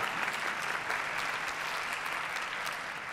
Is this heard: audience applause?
yes